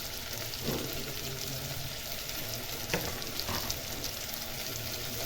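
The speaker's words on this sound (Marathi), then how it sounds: "आता आपण त्याच्यामध्ये ना जो राहिलेला मसाला आहे ना तो पण ह्या दोडक्यावर टाकून तो पण छान भाजून घेऊया" Leftover masala roasting with chopped ridge gourd in a pan, a soft continuous frying hiss with a few faint stirring scrapes, quiet and close.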